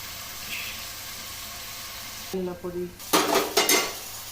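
Brinjal curry being stirred in a pan with salt and red chilli powder, a spoon scraping and clinking against the pan in a few short bursts near the end, over a faint background hiss with no talk.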